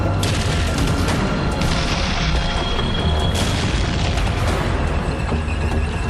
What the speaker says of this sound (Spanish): El sonido de los disparos alerta al pelotón